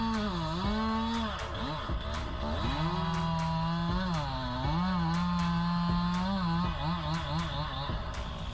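An MS261CM chainsaw with a 50.2cc engine cutting wood runs loud and steady, its engine note rising and falling with repeated revving throughout.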